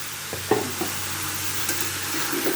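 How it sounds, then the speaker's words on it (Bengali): Eggplant and boiled potatoes being stirred and sautéed in a pan for a fish curry, a steady close sizzle with a few soft utensil knocks and scrapes, no talking. "বেগুনটাকেও আলুর সাথে খুব সুন্দর করে নেড়ে চেড়ে কষিয়ে নেব"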